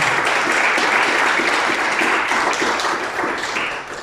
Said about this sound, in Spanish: Denle el aplauso y la adoración al Señor